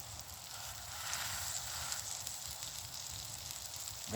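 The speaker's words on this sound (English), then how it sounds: "Well, listen to that though. That sizzle." A cheeseburger patty sizzles on a camp stove in freezing temperatures, producing a steady, close crackling hiss that swells slightly and continues without any voices.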